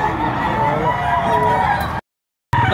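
A rooster at a poultry market in Padre Garcia, Batangas crows loudly and close, one long drawn-out call that breaks off abruptly, followed by a short silence.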